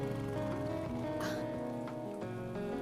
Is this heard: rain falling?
yes